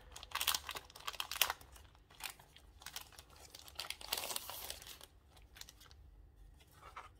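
Plastic bag crinkling as a Logitech K380 multi-device keyboard is pulled out of its packaging, with bursts of crackling and rustling handling noise coming and going, close and fairly quiet, with no talking.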